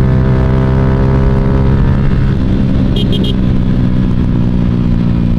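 A Suzuki Raider J115 Fi motorcycle in touring setup with a 10-hole injector runs loud and close, its engine drone steady and rich in harmonics with slight pitch shifts, while a few brief high chirps cut through near the middle.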